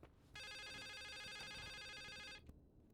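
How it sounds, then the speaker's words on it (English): A telephone rings in a video game with a steady electronic trill lasting about two seconds, clear and fairly close, over a low ambient background with no talking. "The phone's ringing."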